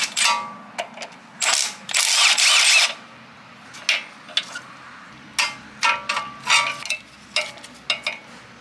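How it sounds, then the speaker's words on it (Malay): A ratchet wrench loosening the 14 mm nut on a car's absorber link, heard as bursts of rapid metallic clicking and clanking that repeat in short uneven spurts, close and fairly loud, with no talking. "kita buka nut 14 absorber link"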